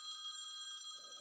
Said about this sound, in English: I think they're calling your phone, Bryce.